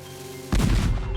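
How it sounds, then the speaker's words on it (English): A cannon fires a ball-and-chain shot during a myth-testing experiment: after a half second of low background hum, one sudden loud, close boom hits and rumbles on to the end. "The ball and chain shot out of the cannon okay"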